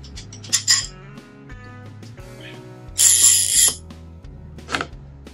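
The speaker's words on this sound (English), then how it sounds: "I'm just going to use a couple of the clutched quick action F clamps just to hold the ends down." Clutched quick-action F clamps are fitted onto a woodworking glue-up: a few sharp metallic clinks and clicks, then a louder, longer ratcheting burst as a clamp is tightened, followed by quieter taps in a quiet room.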